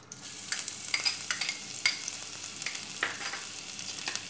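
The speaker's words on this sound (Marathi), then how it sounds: "ते व्यवस्थित मी मिक्स करून घेणार आहे, तेलात भाजून घेणार आहे।" Crushed green chillies and cumin roast in hot ghee as a spoon stirs them, giving a soft steady sizzle with scattered scraping knocks and light clinks, fairly quiet, with no talking.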